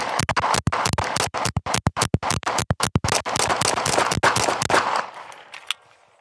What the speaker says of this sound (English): I'm going to shoot this Checkmate UHC mag on Crispy Visuals